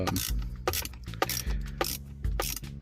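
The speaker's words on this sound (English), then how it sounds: "unbolt the bottom bolt for the little bracket that's holding it together" A ratchet wrench clicks repeatedly while unbolting the bottom bolt of a fog light bracket on a Nissan R53 Pathfinder, a close, steady run of short ratcheting strokes with brief pauses between them.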